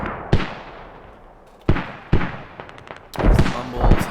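Mortar fire in the video game Squad, several sharp booming impacts spaced irregularly with decaying tails, the last ones clustered and rumbling, heard amid battle noise.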